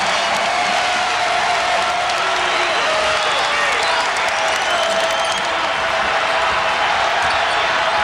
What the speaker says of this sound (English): the crowd making a lot of noise